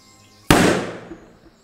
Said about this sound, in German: Oh yeah, der hat ein bisschen geknallt, aber der war auch nicht richtig drin.